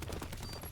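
Rapid gunfire bursts in a competitive Call of Duty pro league match, dense and loud, filling the short moment with sharp repeated reports.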